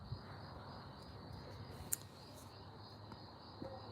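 Night chorus outside, a faint steady high chirping trill from frogs or insects running throughout, with a couple of soft clicks and no voices.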